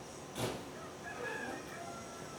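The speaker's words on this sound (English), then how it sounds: "Lots of roosters in the area." A rooster crows once in the distance on a rural ranch near Carmona, Seville, faint against a quiet outdoor background hiss.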